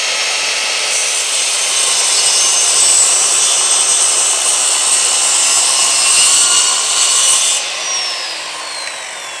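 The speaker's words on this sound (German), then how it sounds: "sägen jetzt, das machen wir jetzt mit allen Seiten, immer umdrehen und sägen" A hand saw cuts through wooden panels for a small DIY speaker cabinet, giving a continuous rasping stroke sound that runs steadily for several seconds before easing off, loud and close with no talking.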